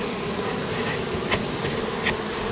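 Honey bees buzz at an open long hive, a steady swarm drone close by, with a couple of individual bees zipping louder past the microphone.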